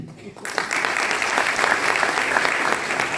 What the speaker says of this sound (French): Il est là, qu'on l'applaudit.